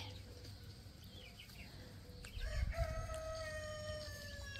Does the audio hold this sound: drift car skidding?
no